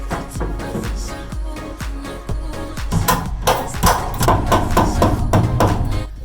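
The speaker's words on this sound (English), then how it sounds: "lining the hole up, and then basically hammering it home" A hammer strikes a metal stud home through a hole, a series of sharp close blows that start spaced and quicken into a rapid run of ringing hits.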